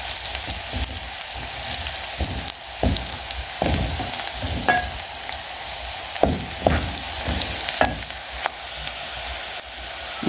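Rosemary sizzles and fries in a pot of Kenyan pilau, a steady crackling hiss running throughout with occasional stirring scrapes and sharp pops, close and fairly loud.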